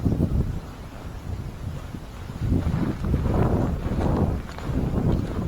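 Strong wind buffets the microphone in low, rumbling gusts that rise and fall throughout, with no clear speech.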